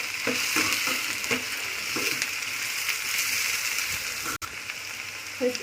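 Onions fry in a pan for baingan bharta, a continuous close sizzle broken by repeated soft stirring strokes at a regular pace.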